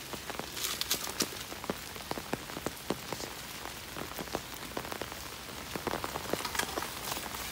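Rain pouring down, a dense steady patter of drops striking a surface nearby, with frequent sharper individual splats scattered through the constant hiss.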